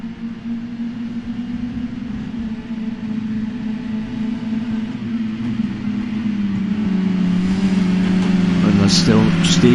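Touring cars racing around the Donington National circuit in a PS4/PS5 racing game, a dense continuous engine drone that builds louder toward the end, with commentary talking over it.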